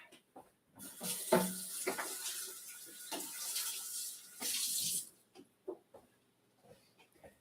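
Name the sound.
rinsing an onion under a running tap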